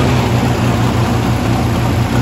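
A 1948 Oliver 70 tractor engine runs at idle close by, a steady loud low-pitched chug with a regular pulsing beat and no voices over it.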